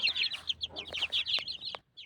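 Newly hatched chicks of the hen Noor Jahan, of the Undertaker line, cheep in rapid high chirps close by, joined by a few low clucks, then fall briefly quiet at the end.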